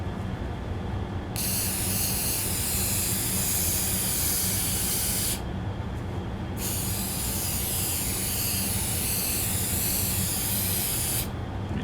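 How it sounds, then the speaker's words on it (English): Shellac sprays from an aerosol can onto a wooden chisel box in long steady hissing bursts, broken by two brief pauses, close and continuous with no speech. "Finish them off with a little spray shellac."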